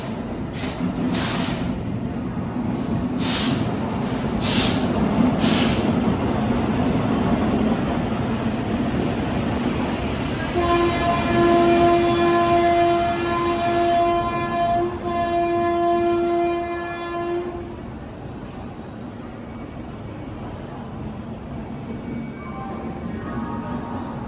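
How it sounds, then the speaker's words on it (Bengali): A Kaviguru Express with new LHB coaches pulls out on the Howrah–Jamalpur route, its steady rumble carrying a long, loud, sustained horn blast in the middle before the rolling noise continues. "ইঞ্জিন ট্রেন বেরিয়ে গেল গন্তব্যর দিকে"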